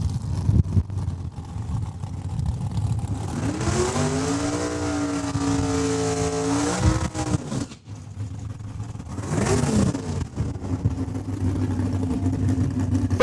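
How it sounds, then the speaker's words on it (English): A drag racing car revs hard in the burnout box at the Saskatchewan International Raceway in Saskatoon, a rising and sustained engine roar heard from a distance over the raceway's background noise, with a second shorter rev after. "And that's Travis McBain making the noise out of the burnout box"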